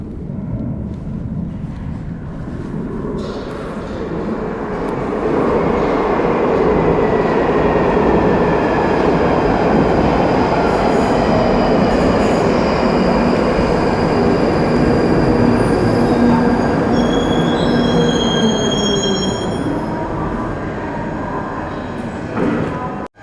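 A London Underground tube train on the southern Northern line section toward Morden draws into an empty platform, a loud sustained rumble of wheels and motors with faint high squeals building and holding steady before fading at the end.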